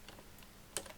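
Brief typing on a computer keyboard while entering text in Microsoft Word, a few soft, close key taps with one sharper click, no talking.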